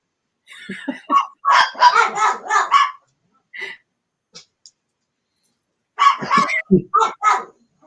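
Several dogs bark in loud, repeated bursts close by, with a pause before a second volley of barking and no talk.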